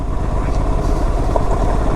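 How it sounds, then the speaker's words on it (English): Aprilia RS 457 motorcycle ridden off-road at about 45 km/h on a rough patch, its engine a steady, loud low drone with wind and road rumble running unbroken throughout. "I am literally riding at 45 kmph in the off-road with the RS457"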